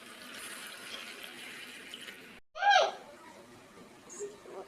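Water is poured into basmati rice in a pot while making prawn biryani, a short, close splashing gush lasting about half a second amid quieter kitchen sounds.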